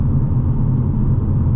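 A steady, loud low rumble of road and engine noise inside a 2025 Hyundai Elantra N with a DCT gearbox while it cruises, a constant droning hum without any talk.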